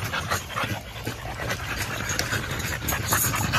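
A dog pants steadily and close by, its quick breathing continuous throughout, with a faint whimper in places, while the animal is overheated after getting into a water bowl.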